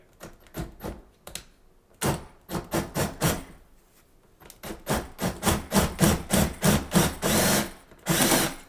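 A DEWALT drill driving a screw extractor bit whirs in repeated short bursts, then a long run of rapid pulses, close and fairly loud, with brief pauses between.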